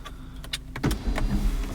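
Electric sunroof on a 2020 Mercedes-AMG CLS 53 coupe: a brief, close motor whir with soft mechanical clicks as the roof begins to open, under two seconds and with no talking.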